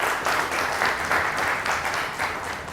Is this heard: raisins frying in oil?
no